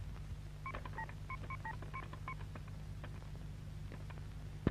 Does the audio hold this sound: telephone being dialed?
yes